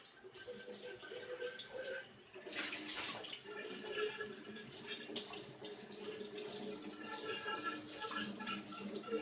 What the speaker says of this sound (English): but I do want to quickly rinse this out.